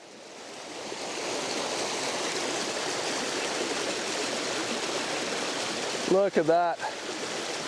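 A creek running high and fast in flood beside a farm gas line, a steady broadband rush of water filling the whole stretch, with someone briefly speaking near the end.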